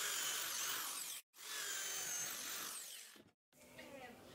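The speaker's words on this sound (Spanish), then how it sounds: "Con la misma Frosnet de 20 milímetros le voy a hacer un pequeño hueco que no pase más de los dientes" A 20 mm Forstner bit bores a shallow recess into wood for a folding stool, a steady whirring drill sound running in two long bursts with brief stops between, close and fairly loud.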